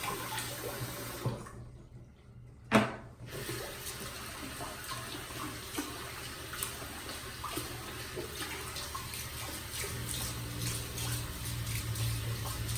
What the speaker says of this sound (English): Sorry about the water running.